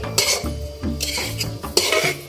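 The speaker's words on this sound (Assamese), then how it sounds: "লৰাই থাকিব লাগিব একেবাৰে ৰঙা নোহোৱালৈকে" A pot is stirred while cooking, a close, steady scrape and clink of a utensil against the pan repeating in quick rhythmic strokes with a faint sizzle underneath.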